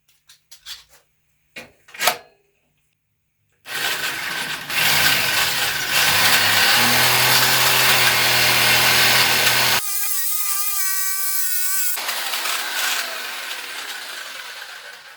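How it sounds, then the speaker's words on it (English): Power saw cutting through a metal bed rack piece for a Honda Ridgeline, starting after a few sharp knocks, then a loud sustained whining cut of about six seconds that shifts pitch midway and continues strongly to the end. "let's make a cut"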